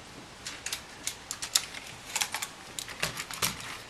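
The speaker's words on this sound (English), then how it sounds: "I've also got a White Alps keyboard" Typing on a keyboard with White Alps switches and a plastic plate: a steady run of sharp, clicky keystrokes in quick irregular rhythm, close and fairly quiet, with no voices.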